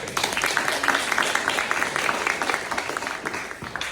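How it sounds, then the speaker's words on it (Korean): An audience at an election campaign farewell event for a Bundang-gap candidate claps steadily and briskly, dense applause at close range throughout, with a voice faintly audible underneath. "다시 한번 격려한 박수 한번 주세요"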